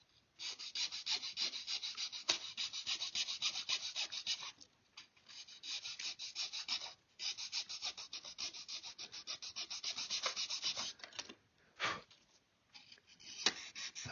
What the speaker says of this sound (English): I think we can do that with that little file.